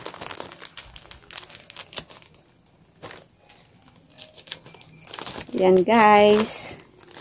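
A bank credit card envelope is torn open and its paper crumples and crinkles in repeated close, dry bursts, with a person speaking briefly toward the end.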